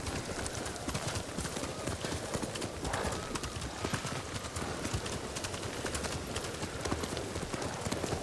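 Horse hooves clip-clopping at a steady riding pace in the Ghost of Tsushima video game, a dense continuous rhythm of hoof strikes over a busy outdoor soundscape, with an occasional whinny and faint voice.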